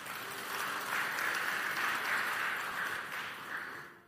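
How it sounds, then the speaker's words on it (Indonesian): An audience clapping together, a dense, steady patter of applause that swells in the middle and tapers off near the end of a few seconds. "Tepuk tangan, saudara."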